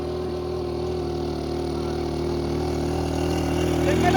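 A car engine labours steadily while driving uphill in a village setting, the hum building slightly toward the end with a faint rise in revs, heard up close from inside the vehicle without talk.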